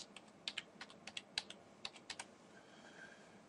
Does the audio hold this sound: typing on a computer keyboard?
yes